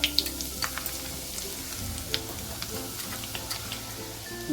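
Onion, garlic and masala sizzle steadily in hot oil in a pan for Kolhapuri misal, a close, continuous frying hiss broken by light clicks of stirring, with no voices.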